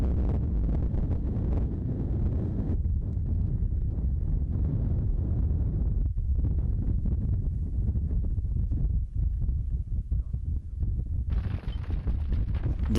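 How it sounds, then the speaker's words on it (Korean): Strong wind on a mountain pass in northern Mongolia buffets the microphone in loud, continuous low roaring gusts that swell and ease, with no voices. "눈보다 견디기 힘든 게 바람입니다"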